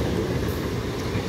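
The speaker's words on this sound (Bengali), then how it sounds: "আপ লোকাল ট্রেনটি ব্যান্ডেল রেলওয়ে জাংশন অভিমুখে যাচ্ছে।" An up local train on the Eastern Railway heads toward Bandel Junction, with a steady, close rumble of wheels and carriages that carries on without a break.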